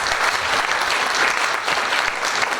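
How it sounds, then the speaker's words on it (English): An audience at an employer awards event applauds a panel of speakers, a brief, full burst of many hands clapping at steady strength throughout. "Please give them another round of applause"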